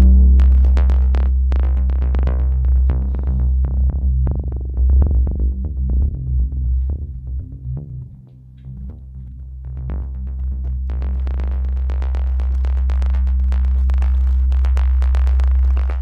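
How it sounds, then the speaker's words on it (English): Gritty, pulsing distorted synth tone from Ableton 12's self-modulating distortion engine, warbling and modulating itself, with bursts of buzzing texture over a low droning hum. "There's like a self-modulating distortion engine here."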